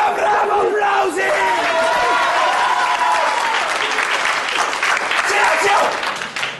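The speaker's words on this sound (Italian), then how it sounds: "Bravo, applausi!" A classroom of students applauds and shouts together, a dense, continuous roar of clapping and raised voices that stays loud and close throughout.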